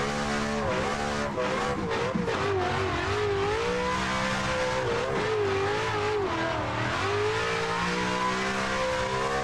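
A drift car in the Assetto Corsa racing game revs hard at full throttle, its engine note rising and falling in loud sweeping waves, with occasional tyre-scrub noise over the howl.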